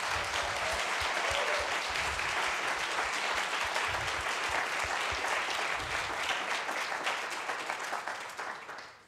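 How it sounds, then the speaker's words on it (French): A hall audience at a science-communication contest final applauds the nine candidates warmly, sustained dense clapping that fades out toward the end. "je pense qu'on peut chaleureusement applaudir nos 9 candidates"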